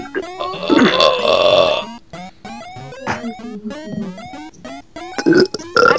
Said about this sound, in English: I can force burp. Well, willingly burp.